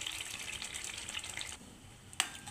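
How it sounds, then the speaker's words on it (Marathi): Ground masala water poured from a mixer jar into a pan for a mackerel (bangda) fish curry, a steady liquid splashing stream that stops, followed by a single sharp clink of the jar. "हे मिक्सरमधलं मी मसाल्याचं पाणी ओतून घेत आहे।"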